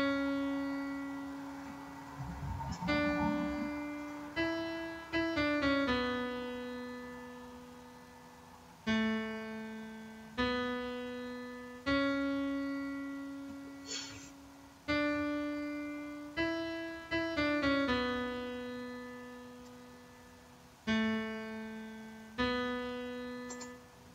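A slow piano line of sustained low notes, each struck and left ringing to decay before the next, with small clusters of quicker notes in between.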